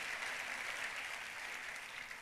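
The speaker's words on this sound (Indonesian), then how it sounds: "Kasih tepuk tangan dulu sekali lagi yang paling meriah buat Tuhan kita." Enthusiastic applause fills a church congregation, steady and dense from start to finish with no pauses, the sound of many hands clapping together at close range.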